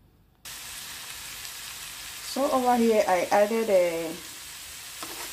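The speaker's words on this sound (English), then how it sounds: "So now we're going to start by frying the vegetables." Vegetables frying in vegetable oil in a pan for Nigerian fried rice, giving a steady close sizzle throughout, with a person talking over it partway through.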